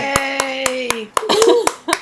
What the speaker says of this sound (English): I'm clapping for you guys.